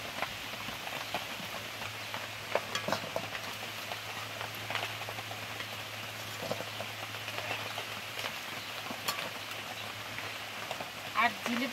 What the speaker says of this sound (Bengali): এগুলো কিন্তু খুব ভালোভাবে একদম কড়া করে ভেজে নিয়েছি। এবার কিন্তু এগুলো তেল থেকে তুলে নেব।